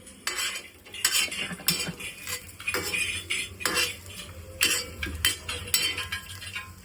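Home kitchen sounds of a man preparing green chili thecha: quick metal clinks and clatters of spoons against pots and pans, with irregular stirring and scraping bursts at close range.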